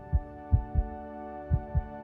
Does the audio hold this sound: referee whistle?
no